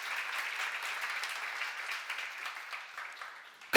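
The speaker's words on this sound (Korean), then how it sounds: "박수를 하자." Church congregation at a seminar applauding together, a steady wash of clapping at moderate, slightly distant volume that holds for several seconds.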